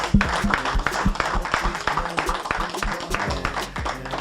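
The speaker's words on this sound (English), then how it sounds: "So let's give them a round of applause." Scattered applause from a crowd at a prison town hall on probation and parole, moderately quiet, with uneven individual claps and a faint murmur of voices underneath.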